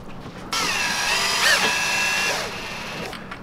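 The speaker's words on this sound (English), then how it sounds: "I drill through the tab of the lip so the screw eye goes through that" A small power drill bores through the plastic lip tab of a handmade crankbait lure, a close, steady high-pitched whirring that revs up and eases off over a few seconds.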